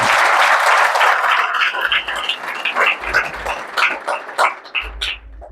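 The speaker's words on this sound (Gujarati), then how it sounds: "જોરદાર તાળી પાડી પ્રભુના નામ" Applause from a church congregation at the end of a sermon: a dense, loud wash of clapping at first that thins into scattered claps and fades over a few seconds.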